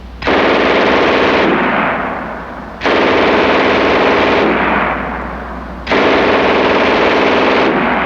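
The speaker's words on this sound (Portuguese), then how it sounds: "a MG-42, que tinha um som diferente" Three long bursts of MG-42 machine-gun fire, each a rapid ripping stream lasting a couple of seconds, loud and close, separated by brief pauses.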